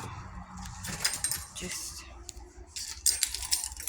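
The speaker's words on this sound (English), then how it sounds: "my mom's house keys." House keys jangle and clink in several short metallic bursts, some close and bright, with a voice talking between them.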